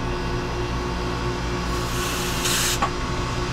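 Steady hiss of gas purging a walk-in cooler's split-system refrigeration line with 404A refrigerant, continuous and close throughout with a brief brighter surge near the end.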